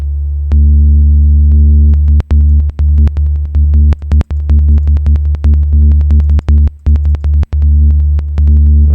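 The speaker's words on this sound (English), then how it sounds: "This is sample and hold, and so what this does is it's kind of like a white noise" A loud synthesizer tone from a U-he Diva sample-and-hold LFO jumps between random stepped pitches in a steady rhythm, each step marked by a brief click, electronic and continuous.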